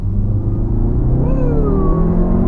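A VW Golf R engine revs during rev matching. A loud, close, low rumble rises and falls in pitch with a quick blip over steady in-car drone.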